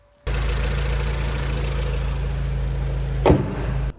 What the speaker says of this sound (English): We're going for a quick test drive.